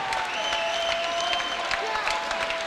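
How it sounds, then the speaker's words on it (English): Crowd applause after a fight between Dion Oakes and Azran Quasid, steady clapping and cheering throughout with an announcer's voice over it. "Let's have a round of applause for both fighters"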